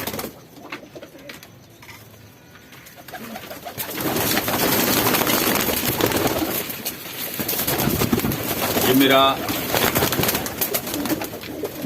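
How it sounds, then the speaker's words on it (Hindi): A domestic pigeon gives low, throaty coos close by, with a soft run of cooing toward the end over a busy, noisy background and a brief spoken phrase. "ये कबूतर, ये मेरा जोन्सरा कबूतर है"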